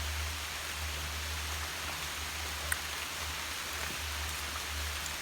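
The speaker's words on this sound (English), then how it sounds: "you probably tell it's the rain picked up pretty good" Heavy rain pours steadily at an island camp, a dense, even hiss of drops on surfaces with a low rumble beneath it, continuous and close, with a single faint tap partway through and no talking.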